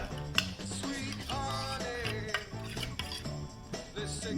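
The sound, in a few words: mixing puppy's dog food with milk in a bowl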